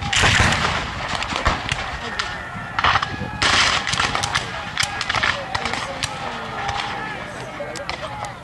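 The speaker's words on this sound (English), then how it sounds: "you're going to see Union artillery, horse-drawn artillery coming into action, providing additional fire against the Confederates" Horse-drawn Union artillery and massed gunfire boom and crackle in repeated bursts at a First Bull Run Civil War battle reenactment, with loud outdoor reports and a voice talking over them.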